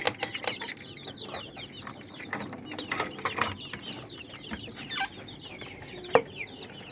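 Farm chicks and hens in a backyard chicken coop, with many overlapping soft clucks and chirps plus a few louder calls and brief wing flutters, steady and close throughout.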